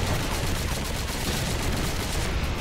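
Grenades going off in Blade of Agony, heard as a continuous roar of overlapping blasts and rumble, loud and close, with no pauses and no voices.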